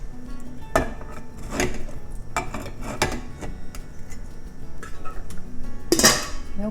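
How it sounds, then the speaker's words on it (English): Metal cooking pots clank and knock as they are stacked for a sun oven, several sharp separate clatters spread across the moment, close and fairly loud with no talk. "And we're going to stack our pots."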